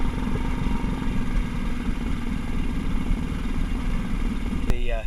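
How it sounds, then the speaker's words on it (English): A small outboard motor on a club sailboat idles steadily after starting, a constant close mechanical drone with a rapid even pulse that continues without a break, ending with a short faint squeak. "As it starts up, push the choke off, and the motor should now run."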